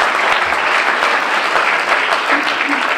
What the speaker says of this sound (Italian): Oh, un applauso sul musicista.